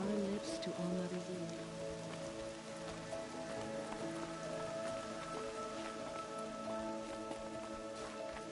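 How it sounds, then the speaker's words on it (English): Steady rain patters on surfaces throughout in the video game Horizon, with faint tonal ambient music underneath and no talking. "Rain's not so bad."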